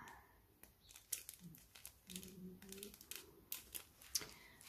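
Plastic packaging around a small bird-shaped gift from an online shopping haul being pulled at and opened, faint crinkling and tearing with scattered clicks and rustles nearby.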